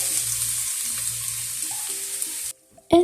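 Chopped garlic and ginger frying in hot oil in a pan, a close, even sizzling hiss that holds steady and then cuts off abruptly, followed by a short clatter.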